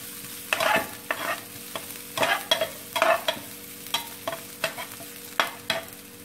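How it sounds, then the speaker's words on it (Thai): Garlic dropped into hot oil in a pan, with a steady sizzle broken by repeated scraping stir strokes, close and moderately loud, no voices, while fried aromatics are cooked as the base for steamed tubtim fish in soy sauce. "กระเทียมลงไปเลยจ้ะทีนี้ ตัวให้มันหอมมันจะเนาะ"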